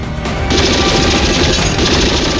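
A loud, dense burst of rapid gunfire crackles continuously, sounding like sustained automatic shots fired close by, in a TV superhero drama scene.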